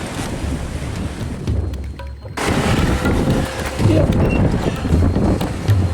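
Ocean swells and strong wind roar around a sailboat in rough seas, with heavy buffeting across the microphone and a surge of crashing water partway through, loud and continuous without speech.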